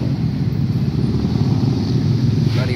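A Gajah Mungkur bus passes on the Pantura road at Cikopo, West Java, a loud, close, steady low engine rumble with heavy road noise throughout.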